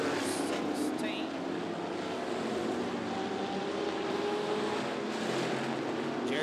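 Street stock race cars roar steadily around the track together, a continuous loud engine drone that holds throughout, with an announcer talking over it.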